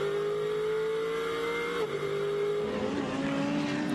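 GT race cars, an Aston Martin and a Porsche, race on the Magny-Cours circuit. One engine screams at high revs, then drops through a gear change as a second car's roar comes in, loud and continuous.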